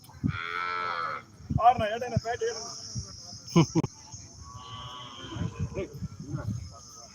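Cattle low repeatedly at a livestock market in Kannapuram, a mix of drawn-out moos near and farther off, with people talking and chatter in the background.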